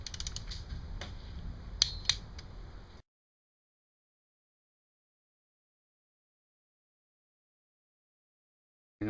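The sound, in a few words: torque wrench tightening clutch cover bolts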